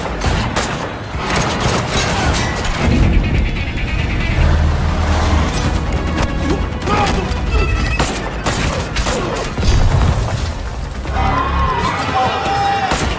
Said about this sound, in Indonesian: polisi sibuk baku tembak dengan pengedar narkoboy